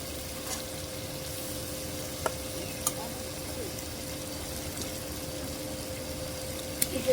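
Hilsa fish curry broth simmers and sizzles steadily in a pan, a soft continuous bubbling hiss with a few faint clinks, no talking.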